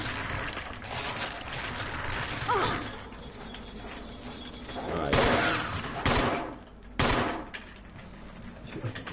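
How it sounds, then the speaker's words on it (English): Several sharp gunshot bursts in Resident Evil HD Remaster ring out over a low droning ambience, separated by quiet stretches. "Gunshot and eerie silence."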